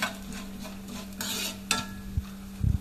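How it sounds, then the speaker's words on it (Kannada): Urad dal and chana dal fry in a pan as a tempering for Mangalore-style cucumber sambar, giving a soft steady sizzle with a low hum, brief spoon scrapes and a few clinks near the end. "ಚೂರು ಉದ್ದಿನಬೇಳೆ, ಚೂರು ಕಡಲೆಬೇಳೆ, ಆನಂತರ ಸ್ವಲ್ಪ ಇದನ್ನು ಈ ರೀತಿ ಫ್ರೈ ಮಾಡುವ."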